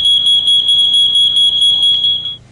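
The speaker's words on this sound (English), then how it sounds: "The smoke detector goes off." An ionization smoke detector alarm shrills loud and close, a piercing continuous high tone pulsing slightly before cutting off at the end.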